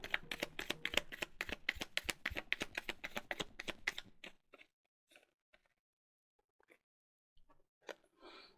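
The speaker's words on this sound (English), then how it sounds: "I'm going to do one more shuffle" A deck of tarot cards being shuffled by hand in a quiet room, a dense run of rapid riffling clicks for about four seconds, then a few scattered soft taps and card sounds.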